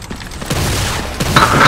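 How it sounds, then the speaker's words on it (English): Enemy gunfire and explosive booms from an artillery mission in the video game Earth Defense Force 2017, a few loud sharp bursts and thuds over a busy background of battle noise. "They've opened fire!"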